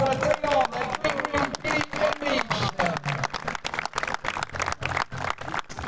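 Steady applause from an audience at an eventing prize-giving ceremony in Saumur, rippling clapping that continues throughout under an announcer's amplified voice.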